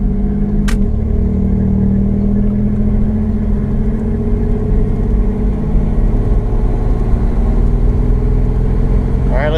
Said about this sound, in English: There's no blow-off valve. It's all turbo surge, and it sounds amazing.